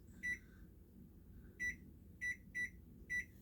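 A stove timer gives five short electronic beeps, one alone and then four spaced more closely, clear and sharp over a quiet kitchen hum.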